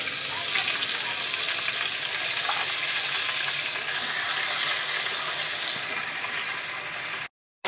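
Potato pieces fry in hot oil with a dried red chilli, a loud, close, continuous sizzle with faint crackles and stirring clinks that runs steadily and then cuts out briefly near the end.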